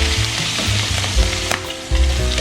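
Meat fries in its own rendered fat in a heavy skillet, a loud close sizzle with sputtering bursts and spatter over a brief stretch, no voices.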